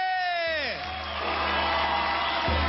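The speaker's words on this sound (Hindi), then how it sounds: "जोरदार तालियां हो जाए आपकी फेवरेट किरण खेर और मेरी किर्रू के लिए" Studio audience of a TV talent show, India's Got Talent, cheering and applauding for the judges, a loud sustained crowd roar with whoops that swells after a falling tonal sweep of show music.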